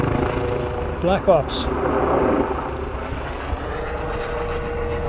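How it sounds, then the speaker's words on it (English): A black helicopter hovers overhead near Rhymney, a steady, loud rotor and engine drone that fills the whole stretch while someone talks briefly over it. "It's a black chopper."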